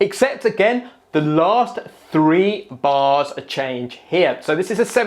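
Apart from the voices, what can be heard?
No everyday noises stand out.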